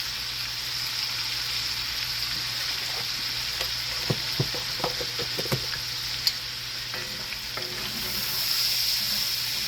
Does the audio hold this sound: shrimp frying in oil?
yes